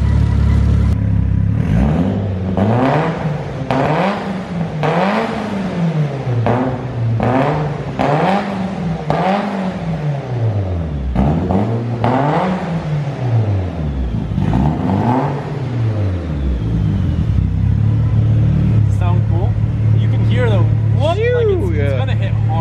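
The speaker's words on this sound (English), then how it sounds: "I can tell just by revving it." A car engine revs repeatedly in rising and falling bursts, loud and close, with a steady idle between pulls and a few higher whines near the end; people talk alongside.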